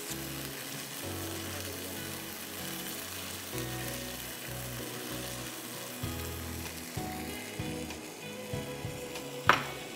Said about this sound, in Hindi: ठीक है, इसको आपको 10 मिनट भूनेंगे।